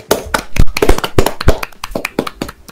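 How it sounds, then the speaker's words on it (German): Small, close clapping from a few people, or maybe only one, coming in uneven bursts of sharp claps, with no talk over it. "danke für deinen Applaus"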